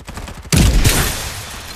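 Sudden loud burst of video game gunfire in the battle royale Farlight 84, opening with a heavy blast and continuing as a dense, sustained barrage that stays loud to the end.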